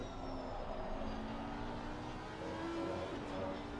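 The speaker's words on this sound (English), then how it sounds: "Glorious sound of the R8." Audi R8 GT race car engine accelerating out of a corner at the Barcelona circuit during a GT Europe race, a distant sustained engine drone with rising pitch under a steady track ambience.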